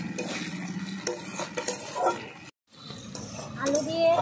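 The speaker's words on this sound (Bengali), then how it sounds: "আলু দিয়ে কষিয়ে নিলাম" Potatoes with spices being stirred and sautéed in a pan, with scraping and clinking of a utensil against metal and a light fry, while voices talk over it and a brief gap interrupts the sound midway.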